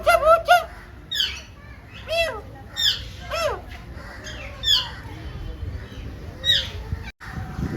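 Birds at Ahmedabad zoo give repeated harsh squawking calls in short bursts, fairly close, over a low outdoor background with faint voices.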